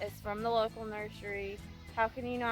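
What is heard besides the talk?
No distinct noise like a dog, phone or traffic.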